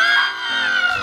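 A group of people outside Oslo's National Gallery lets out a loud, sustained collective scream imitating Munch's The Scream, several voices overlapping in one high shout that dips slightly at the end.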